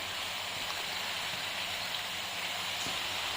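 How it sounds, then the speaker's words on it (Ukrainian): Steady, dense hiss of water misting down like rain inside a livestock fattening barn, continuous and even throughout, with no voices. "Як ви бачите, йде дощ в приміщенні."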